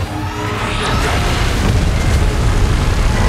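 A sustained, roaring blast of a monster's beam in the PUBG video game, loud and continuous with a deep rumbling body throughout, no talking over it.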